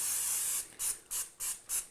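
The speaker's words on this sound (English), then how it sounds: "we're going to spray it with some non-stick spray here" A long hiss of non-stick cooking spray onto a 9-inch pie plate, followed by four short, evenly spaced spritzes, close and fairly quiet.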